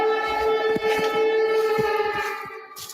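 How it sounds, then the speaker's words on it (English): An air raid siren wails loudly and steadily, holding a sustained, slightly wavering tone with strong harmonics, while faint knocks and clatter sound underneath and the level eases a little toward the end. "the ominous sound of air raid sirens could be heard in neighboring Poland"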